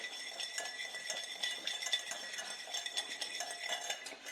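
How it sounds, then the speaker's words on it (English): A small whisk stirs lemon juice and oil together in a bowl, giving a steady run of light, quick metallic clinks and scrapes close by with no talking, for a simple tomato basil salad dressing. "And I've got my little tiny whisk. Just gonna whisk that together."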